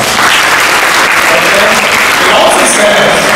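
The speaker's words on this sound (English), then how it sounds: "a big round of applause" Loud, close applause from an audience at a youth career guidance event, dense continuous clapping that stays strong for the whole few seconds.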